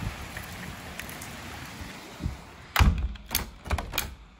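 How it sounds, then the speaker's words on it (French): Steady rain patters in the background during a windy storm in Amboise, then several loud thuds and knocks land close by toward the end. "La pluie."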